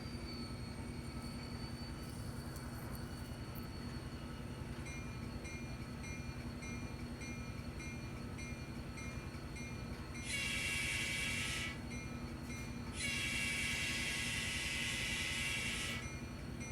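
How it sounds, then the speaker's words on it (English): Two short blasts from the horn of an N scale ScaleTrains SD40-2 model locomotive, bright and buzzy, sound over a constant low motor hum and faint steady tones, the second blast longer than the first. "That horn is a bit loud in comparison to the NS unit, but it sounds cool, doesn't it?"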